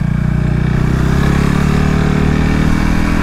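A KTM RC 390 Cup race motorcycle riding on a track day circuit, its single-cylinder engine droning loud and close with a steady buzzing tone and slight pitch shifts as it runs.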